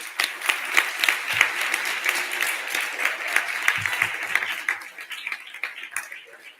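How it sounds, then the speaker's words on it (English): A crowd at an inauguration ceremony gives campaign helpers a sustained round of applause, steady and fairly loud throughout, with a few voices audible beneath. "So I think you all deserve a round of applause too."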